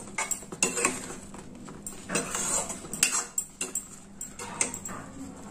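A metal spoon stirs vegetable rava upma in a pan, giving irregular scraping clinks and knocks against the metal, a dozen or so close taps in uneven rhythm with quiet pauses between.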